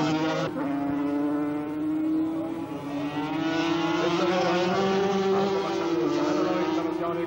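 A Yamaha racing motorcycle from the Turku motor club screams past at a 1982 road race, its high-pitched engine holding a sustained wail that rises slightly in pitch, loud and continuous, with a race commentator's voice mixed in.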